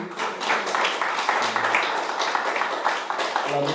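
Church congregation clapping together at a worship service, a dense steady patter of many hands filling the room, with some voices and faint music mixed in underneath.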